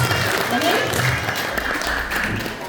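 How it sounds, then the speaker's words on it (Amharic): An audience at a church children's annual question-and-answer competition claps for a child, a brief burst of mixed applause heard together with voices. "አጨብጭቡለት።"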